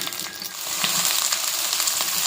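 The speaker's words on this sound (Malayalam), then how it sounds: "കടുകും വറ്റൽമുളകും കറിവേപ്പിലയും ഇടാം ഇതിനൊപ്പം അരിഞ്ഞ വെണ്ടയ്ക്ക ചേർക്കാം" Mustard seeds, dried red chillies, curry leaves and chopped okra fry in hot oil, giving a close, continuous sizzle with crackling pops and light scraping from the pan, without any voices.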